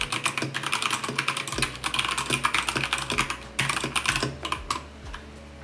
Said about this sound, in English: sometimes when I'm typing and I hear that response, I hear all the clicking